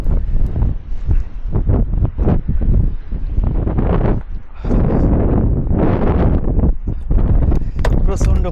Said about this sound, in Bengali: প্রচণ্ড পরিমাণ বাতাসের তীব্রতা, যার কারণে শীত লাগছে